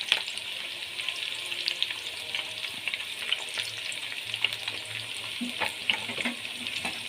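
Chopped onion frying in a pan for a Punjabi mixed vegetable dish, giving a steady, close sizzle with occasional soft stirring scrapes throughout.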